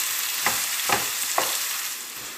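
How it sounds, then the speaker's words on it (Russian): Carrot pieces fry in hot oil with spices in a pan, a steady close sizzle broken by three soft rhythmic scrapes of stirring, with no talking. "Перемешиваем так примерно минуту тоже, чтобы масло просто впиталось в морковку."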